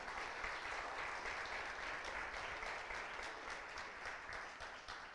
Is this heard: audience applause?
yes